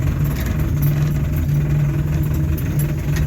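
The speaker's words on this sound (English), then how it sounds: "Second gear, crawling along in low range." A 1968 Land Rover Series IIa 88 engine idles steadily while crawling in second gear low range, a continuous low mechanical drone with a faint knocking pulse, close and even throughout.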